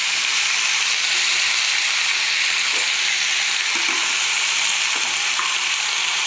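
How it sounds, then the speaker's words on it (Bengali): Spring onion stalks and potatoes fry in a pan with black cumin seeds, a steady loud sizzle running unbroken throughout with a few faint stirring clicks. "তো এবার ভাজা চলছে, পেঁয়াজকলি ভাজা আর আলু দিয়ে পেঁয়াজকলি ভাজা।"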